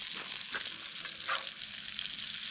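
Thick venison burgers sizzling in a pan while being flipped, a bright steady crackle up close with a few louder pops and a soft scrape of the turn.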